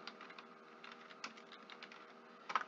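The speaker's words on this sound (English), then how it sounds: "So the first thing that I'm going to do is type in my title here" Keys on a computer keyboard are typed in quick irregular bursts of soft clicks, close and fairly quiet, with brief pauses between runs of keystrokes and no talking.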